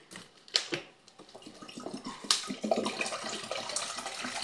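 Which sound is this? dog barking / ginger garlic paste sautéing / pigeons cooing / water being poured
water being poured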